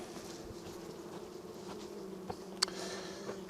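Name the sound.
bees buzzing around an open beehive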